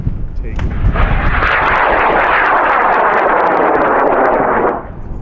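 A high-power rocket motor ignites with a sudden loud blast that turns into a sustained, thunderous roar, then cuts off sharply near the end. Voices are faintly audible beneath the noise.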